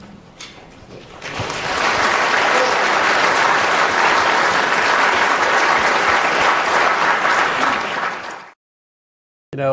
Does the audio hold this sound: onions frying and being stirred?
no